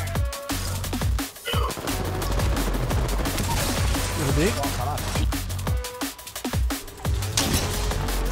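Gunfire in the video game Apex Legends: loud rapid bursts and single shots crack through dense game noise, with players talking over the action.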